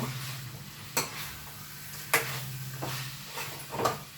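Spicy chicken fry being stirred in a pan, a spoon scraping and clanking against the metal every second or so over a steady low sizzle and faint hum, close and moderately quiet, with no talk.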